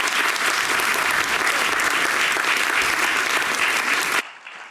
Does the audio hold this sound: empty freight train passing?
no